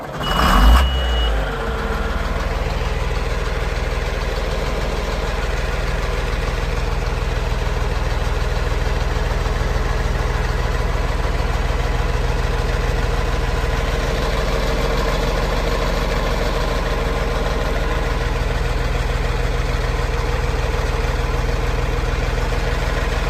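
A 1992 John Deere 4055 tractor engine idles steadily and loudly after a brief start-up burst at the beginning, with a constant low rumble and no talk.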